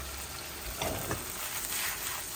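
Curry with pabda fish and potato stirred and frying in a pan, a steady close sizzle with a couple of scraping stirs, no talk.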